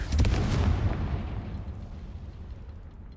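A Confringo fire spell explodes in the video game Hogwarts Legacy: one loud, booming blast with a deep low rumble that fades out slowly over a few seconds, with no talking.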